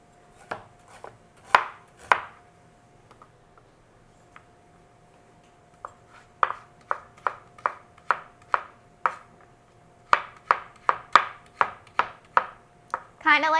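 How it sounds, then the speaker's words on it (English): A kitchen knife chopping fresh ginger on a cutting board: a few scattered cuts, a pause, then a steady run of crisp, evenly spaced chops, close and clear with no talk. "So I have fresh ginger here that I'm going to cut up."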